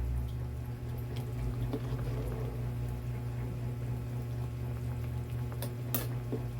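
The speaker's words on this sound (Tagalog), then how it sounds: "Kumukulo-kulo na" Chicken mechado sauce simmering in a pot, a steady low bubbling hiss with occasional small pops, heard up close and without talking.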